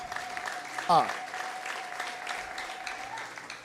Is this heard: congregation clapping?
yes